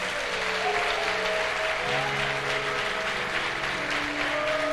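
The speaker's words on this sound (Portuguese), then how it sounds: "Você pode aplaudir ao Senhor por essa palavra?" A church congregation at a Sunday morning service applauds steadily and loudly, with sustained clapping from many hands throughout and a held organ-like tone underneath.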